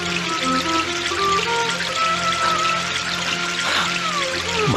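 Water poured out during an outdoor devotional gathering, a steady continuous splash and trickle running throughout under a sustained tonal background hum.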